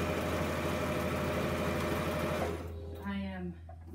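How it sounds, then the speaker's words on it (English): A sewing machine stitches a wide quilt border onto the quilt frame with a steady, loud mechanical whir in one continuous straight run. It slows and changes pitch near the end, and a voice talks over it briefly. "You do not need to back tack, just go straight, sew straight along."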